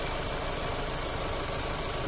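A Toyota Corolla All New engine runs with its automatic radiator fan motor switched on, a steady loud idle hum with a continuous whirring fan layer and no talk.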